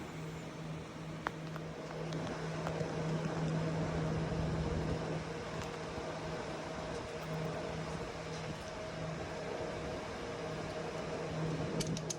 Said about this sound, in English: the noise we're hearing there, that's the fans running for the drying process